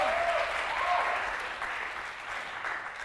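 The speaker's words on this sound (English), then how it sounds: "Applaud, come on." A congregation at a large church convention applauds, a broad even roar of clapping that gradually fades, with brief voices audible near the start.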